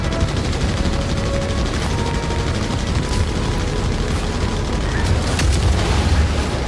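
Heavy gunship cannons on a Redeemer in Star Citizen fire in a dense, continuous barrage, loud rumbling bursts and booms layered over each other without a break.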